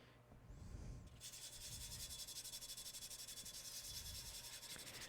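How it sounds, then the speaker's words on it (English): Sandpaper rubbed over glazed pottery in a steady, rapid back-and-forth rasp, close and fairly quiet, continuing without pause after a soft start. "I've got to take some sandpaper to this now."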